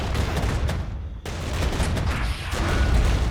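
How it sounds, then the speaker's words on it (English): Dense, continuous infantry gunfire in the strategy game Regiments, long-range weapons crackling in overlapping volleys with booming impacts, loud and sustained with a brief dip near the middle. "Some of our guys are engaging with long-range weapons."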